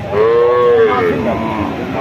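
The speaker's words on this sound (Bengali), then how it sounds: "ছয় দাঁতের দুধের গাভী" A six-tooth Red Sindhi dairy cow moos once, loud and close, a long drawn-out low call at a crowded cattle market.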